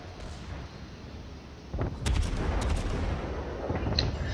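Naval ship guns firing in the World of Warships video game aboard the heavy cruiser Myoko, a low ambient hum broken by several sharp booming salvos clustered in the second half.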